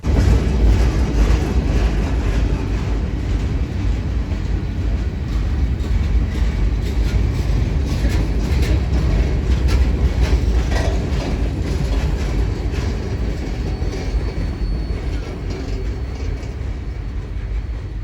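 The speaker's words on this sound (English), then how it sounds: "Over half the train was just these gondola cars." A long freight train made up largely of gondola cars rolls past on the Pittsburgh Line at Cresson, a loud, continuous rumble with steady clickety-clack of wheels over rail joints, close by and without voices.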